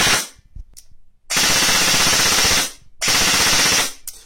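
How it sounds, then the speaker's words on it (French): A Scorpion CZ EVO 3 A1 airsoft replica fires two loud, rapid mechanical bursts about a second long each, separated by short quiet gaps, with faint clicks between them. "Burst appuie même une fraction de seconde et ça fait la rafale de 3."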